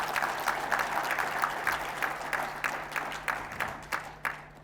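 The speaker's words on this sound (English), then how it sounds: "I request you all to give a big round of applause." An audience at a chartered accountants' event claps, the applause starting steady and then thinning into scattered, fading claps over a few seconds.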